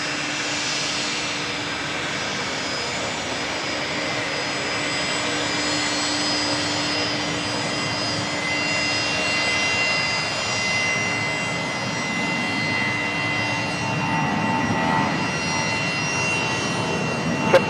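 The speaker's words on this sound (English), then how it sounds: "that Fokker finally, they've been sat there for so long, finally now able to pull into their bay" A Fokker 70 jet taxis into its bay at Brisbane Airport, its engines making a continuous whining hum with a high tonal whistle that holds steady and swells slightly toward the end, heard from a moderate distance.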